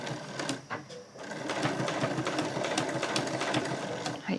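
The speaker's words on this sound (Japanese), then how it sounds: "じゃあそのまままっすぐ縫っていきましょう。" Domestic sewing machine stitching a straight seam on a tucked fabric pouch, a fast steady mechanical whir running continuously for several seconds after a brief start-stop at the beginning, close and clear.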